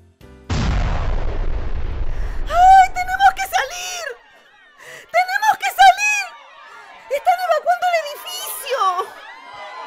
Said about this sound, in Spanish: Escuché una explosión. Quizá estalló una bomba.